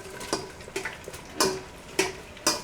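Butter and vegetables sautéing in a soup pot, heard as faint crackling and sizzle punctuated by several sharp clicks and taps of utensils, roughly every half second, with no talk.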